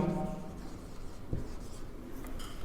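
Marker or chalk writing notes on a board during a computer networking class makes light scratchy strokes, with a short tap partway through, close and fairly quiet and with no talking over it.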